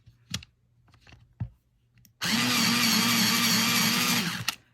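Chunky colouring pencil being turned in a sharpener, a loud steady grinding that runs for about two and a half seconds after a few soft handling clicks and taps.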